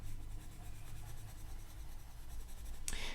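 Steady soft scratching of a coloured pencil across paper, continuous and close, with a brief louder scrape near the end.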